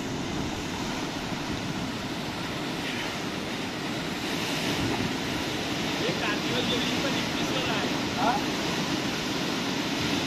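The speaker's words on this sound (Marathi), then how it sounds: "आणि लाटा बघा कसल्या झपकन उडत आहेत." Sea waves splash and surge against the shore during a fishing trip, a steady loud wash of surf mixed with wind rumble across the whole stretch, with no voices over it.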